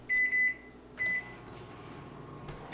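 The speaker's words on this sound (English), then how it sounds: "that microwave takes forever" A microwave oven defrosting pork hums quietly throughout, with a few high electronic beeps near the start and a couple of soft clicks later, close and fairly faint.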